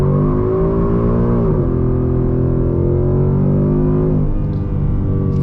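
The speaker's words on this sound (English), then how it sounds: "Oh my, that was a big wheel spin." A Ford Mustang GT launching hard with wheel spin, a loud, close engine note with the pitch climbing through the gears and a clear drop at a shift before it keeps pulling, with no talk.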